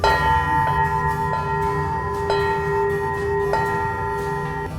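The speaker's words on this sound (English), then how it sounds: "These are bell buoys, and they have the sound of the actual bell buoy in this harbor" A bell buoy in Newburyport harbor, Massachusetts, rings with bright metallic strikes every second or so, each tone sustaining and overlapping the next over a low, steady water-and-wind rumble.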